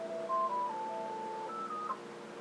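Phone keypad buttons sound a string of steady electronic tones while a ringing phone is muted, several held beeps in a row at changing pitches, fairly faint and with no one talking.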